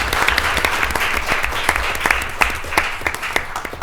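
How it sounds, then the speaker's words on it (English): A legislative committee hearing audience applauds a panel of speakers, with individual sharp claps standing out over a broader patter of hands, fairly close and lively, rising and dipping slightly. "All right, round of applause for this panel."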